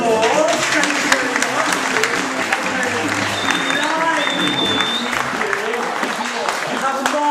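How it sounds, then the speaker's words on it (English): Audience applause for two performers at a village variety pantomime of Cinderella, steady clapping with some cheering mixed with talk and background music. "Give these two a round of applause."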